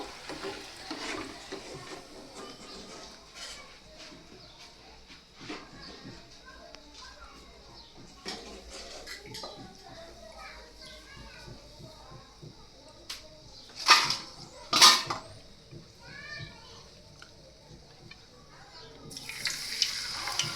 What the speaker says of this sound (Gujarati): અને પછી એકદમ ક્રિસ્પી થાય બંને સાઈડથી ત્યાં સુધી આપણે તેને તળી લેશું